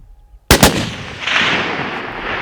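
A single rifle shot fired at a bear during a blacktail deer hunt: one loud, close crack, followed by a rolling echo that fades slowly across the open country.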